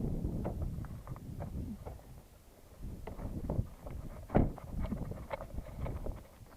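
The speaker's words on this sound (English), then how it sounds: "sorry if you can't hear me, the wind is ridiculous." Strong outdoor wind buffets a microphone, a low, rumbling, uneven roar with gusty surges and scattered thumps, fairly quiet overall and without speech.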